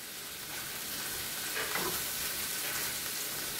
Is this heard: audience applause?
no